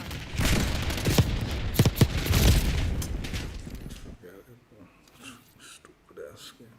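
In Call of Duty Black Ops 6, a Semtex grenade goes off amid a loud, crackling barrage of gunfire and booms, then the noise fades to quieter in-game sounds.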